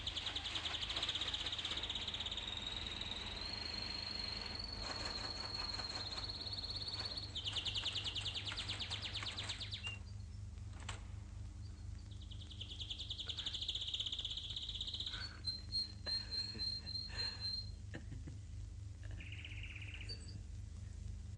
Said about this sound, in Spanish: ¿Cuánto tiempo hacía que estos hombres no habían oído cantar a un pájaro?